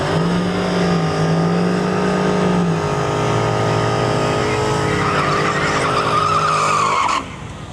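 A 5th-generation Chevrolet Camaro SS roars down a drag strip, its loud engine note holding steady and shifting pitch as it pulls away with a tire screech, then cutting off abruptly near the end.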